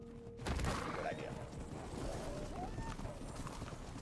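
A horse is ridden through a video game world, its hooves drumming in a steady, fairly quiet galloping rhythm, with a soft thud near the start.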